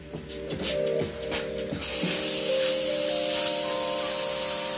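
An airbrush sprays paint onto a T-shirt, starting as a steady, loud, close hiss after a couple of seconds over a tonal humming background and then continuing without a break.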